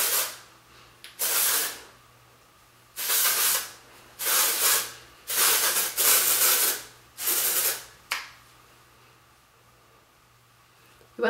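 Texture spray is sprayed onto hair in about six short, loud hissing bursts, each lasting around a second and separated by brief quiet gaps, close to the listener.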